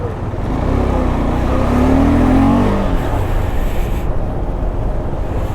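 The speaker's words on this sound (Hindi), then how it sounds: "यहाँ पे लगा हुआ है बड़ा गंदा वाला ट्रैफिक" Road traffic grinds through a jam near Khalsi in Ladakh. Vehicle engines rumble close by and one accelerates past, drawing out a steady motor drone with no voices over it.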